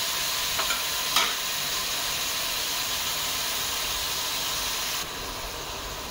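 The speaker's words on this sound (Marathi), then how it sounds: "मंद आचेवरती ह्या बिया चांगल्या फ्राय करून घ्यायचे" Pointed gourd (parwal) seeds fry gently in a pan over a low flame, giving a steady, soft sizzle and hiss with a couple of brief stirring scrapes near the start and a slight drop in level near the end.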